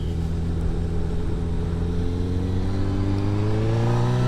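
A 2021 Honda CB1000R Black Edition motorcycle engine revving under throttle, a loud, close, steady drone that rises smoothly in pitch as the bike accelerates.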